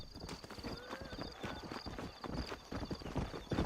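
Horse hooves clip-clopping in the video game Red Dead Redemption, a rapid rhythmic gallop that runs continuously at close range, with a faint whinny mixed in.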